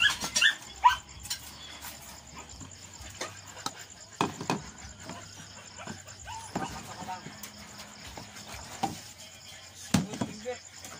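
Dogs being fed home-cooked longganisa and rice on a mountain property in Antipolo, with scattered light barks and clattering under near-constant talk and background noise.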